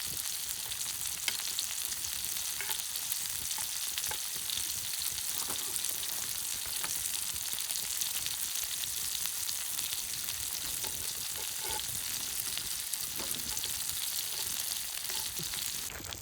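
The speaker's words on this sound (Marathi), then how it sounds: "तर झाला आहे फ्राय आता." Chicken pieces frying in a pan for a village-style chicken fry, a steady, dense crackling sizzle that runs continuously and close without pause.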